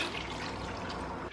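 Broth pours steadily from a large 32-ounce mason jar into an Instant Pot for beet borscht, a continuous close liquid splash and trickle lasting just over a second.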